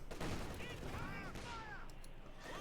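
Scattered battlefield gunfire in Company of Heroes 2, with sporadic shots and distant bursts sitting in a busy mix with whistling shells and a faint voice beneath.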